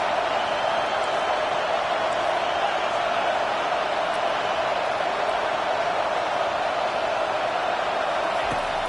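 Steady, dense stadium crowd roar in a college football video game on a fourth-down play, a loud continuous wash of noise that holds level throughout with no talking over it.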